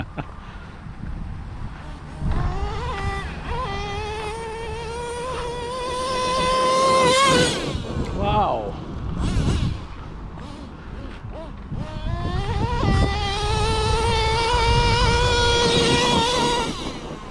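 A small high-revving Traxxas T-Maxx 3.3 nitro RC truck engine buzzes loudly on dirt, its pitch climbing and dropping as it speeds up, eases off, then winds up again.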